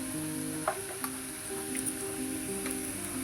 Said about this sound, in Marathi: आता आपण हा कांदा जो आहे तो व्यवस्थित परतून घेणार आहे, मस्त गुलाबी कलर येईपर्यंत।